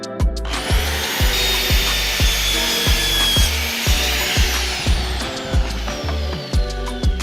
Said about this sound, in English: that's your saw set up for your bevel cut